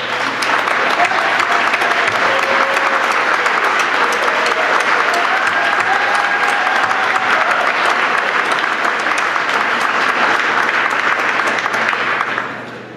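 Sustained applause for the coaches at a senior athletic awards banquet, a full room clapping steadily for about twelve seconds before fading, with a few faint voices underneath.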